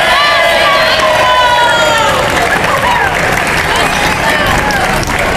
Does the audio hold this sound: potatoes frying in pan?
no